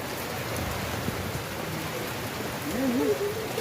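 Steady rain from a typhoon falls in a dense, even hiss close by, with a faint rising tonal sound near the end.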